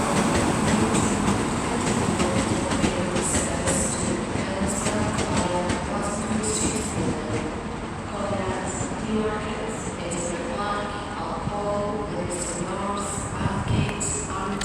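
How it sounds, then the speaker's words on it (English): LNER Azuma train arriving at Edinburgh Waverley station on a service from London King's Cross, a steady rolling rumble with faint squeals and station echo, while someone talks over it. "As we see an Azuma arriving with a service from London King's Cross to Stirling"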